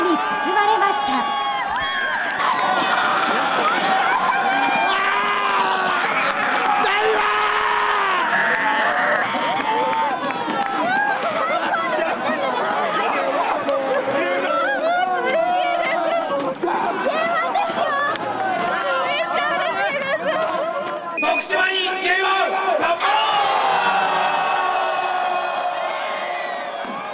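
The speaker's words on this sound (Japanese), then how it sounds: "スタジアムは大歓声に包まれました" A huge stadium crowd of football supporters roars and cheers continuously at the final whistle of the 2013 J2 playoff, Tokushima Vortis vs Kyoto Sanga, with shouts and whoops layered into a dense, sustained wall of noise.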